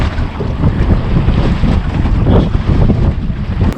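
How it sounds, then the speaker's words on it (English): Big waves slap and wind roars steadily around a fishing boat on a Yukon lake, a loud continuous wash of water and buffeting wind noise with no talking. "These waves are big."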